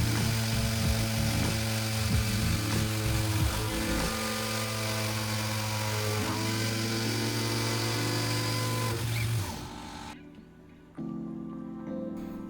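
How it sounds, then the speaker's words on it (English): A CNC machine cuts through the middle of a part with a 3/16 end mill, giving steady layered whining tones that shift pitch and then stop abruptly near the end. "Now we're cutting with a 3/16 end mill through the middle of the part"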